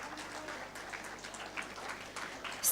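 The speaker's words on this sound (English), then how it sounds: "A big round of applause, ladies and gentlemen." Applause from a conference audience at an international academic gathering, a steady wash of clapping across the whole stretch at moderate loudness with no talk over it.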